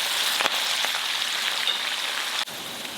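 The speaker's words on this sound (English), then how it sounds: "Use a strainer and carefully add the basil leaves as the oil will splatter and fry for about 30 seconds." Basil leaves frying in hot oil, poured in through a strainer while making crispy popcorn chicken. A dense, continuous crackling hiss of splattering oil runs close and steady throughout, with a couple of brief sharper pops and no voices.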